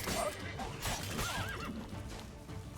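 Roach, the horse in The Witcher 3: Blood and Wine, lets out a loud whinny, with faint hoof clops and game noise behind it.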